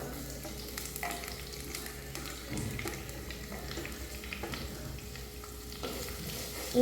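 Onion, garlic, ginger, green chilli and curry leaves sauté in a pan for a coconut-milk mango fish curry, giving a steady soft sizzle with occasional stirring scrapes at close range.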